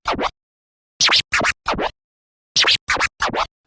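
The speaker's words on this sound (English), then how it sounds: "the second part is actually going to be doing 3 baby scratches all within 1" A DJ does baby scratches on a turntable. A single scratch stroke comes first, followed by two rapid bursts of three short back-and-forth scratches each, crisp and loud against silence.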